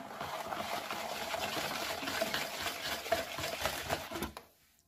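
Oil being whisked into homemade cake batter in a bowl, a steady, continuous stirring and scraping that runs several seconds before stopping abruptly.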